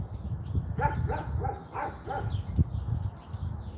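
A dog barks a few times in a quick series, somewhat distant, over a steady low rumble of background noise.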